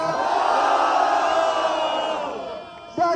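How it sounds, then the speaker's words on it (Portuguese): A crowd at a Brazilian rap battle semifinal roars and whoops for a performer, a loud, dense wash of cheering that fades toward the end before a sharp shout cuts in. "Barulho, quem gostou das rimas de Sabu?"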